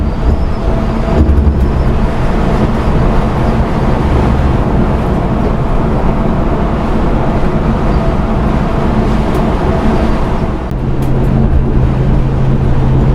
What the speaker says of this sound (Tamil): பெங்களூரு நாகர்கோவில் வண்டியை ஓவர்டேக் அடிக்கிறோம்.